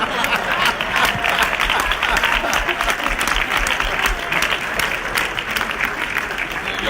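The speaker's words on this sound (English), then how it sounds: "Y'all would clap with me." Sustained, dense applause from a church-style audience at the NC A&T sit-in anniversary celebration, loud and steady throughout with a few voices faintly mixed in.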